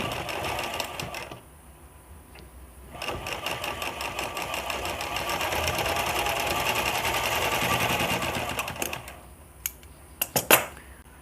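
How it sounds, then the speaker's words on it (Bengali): Sewing machine stitching folded cloth for a decorative tassel: a short run, a pause, then a long steady whirring burst of several seconds, followed by a few sharp clicks and handling knocks, close and clear. "একদিকে ফোল্ড করে দুশুদ মতন কাপড় গ্যাপ রেখে আমি সেলাই দিয়ে দিব"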